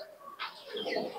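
Giribaz high-flying pigeons at a loft in Beldanga, Nadia, give a short burst of soft calls and wing sounds over quiet background, close and moderately loud.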